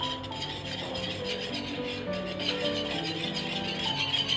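Rice flour being worked into batter for homemade kurkure, a steady continuous rubbing, scraping stir close by, even and unbroken throughout with no talk.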